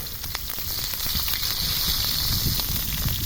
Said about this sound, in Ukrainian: будемо по одної котлетці жарити